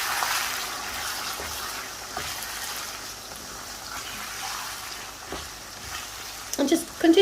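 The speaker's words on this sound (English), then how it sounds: "And then we're just going to stir this." Cumin seeds and ground spices frying in a pan while being stirred, a steady soft sizzle with occasional scrapes of the spoon and a louder clatter near the end.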